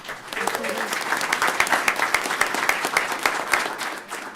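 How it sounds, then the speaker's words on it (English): Audience at a Princeton board of education meeting claps in a warm round for honorees, a steady patter of many hands in a room, with a voice briefly heard at the start. "let's give them a round of applause"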